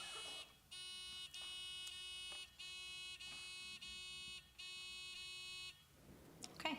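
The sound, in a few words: quiz buzzers being tested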